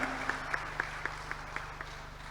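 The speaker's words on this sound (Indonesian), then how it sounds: "Boleh aplaus tepuk tangan?" An audience at an outdoor Indonesian ceremony for a mass corn planting and seed launch claps together in sustained, even applause that stays steady throughout.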